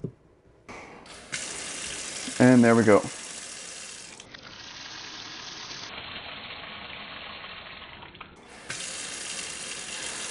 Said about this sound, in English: turn the water back on